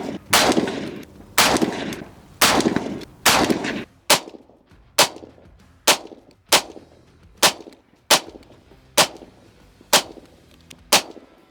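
Rifle fitted with an EOTECH EXPS3-0 holographic sight fired at an outdoor range, with loud sharp gunshots. Early shots come roughly every second with echoing tails, then a steady series of single shots follows about every 0.8 seconds.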